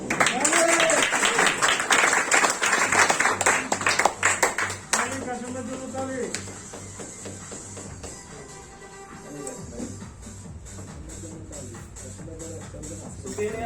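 A Sharjah DXN agent recognition event crowd gives a dense burst of clapping that fades after a few seconds, with a speaker's voice over a background tone and room chatter afterward.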